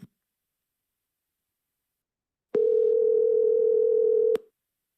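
A phone call dialing out from Google Meet gives a brief click, then after silence a steady, loud single-pitch tone for about two seconds that ends abruptly, no voices.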